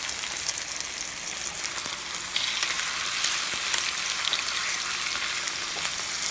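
Loud, steady sizzling and spitting of chicken frying in hot olive oil, a dense crackling hiss that keeps going without pause.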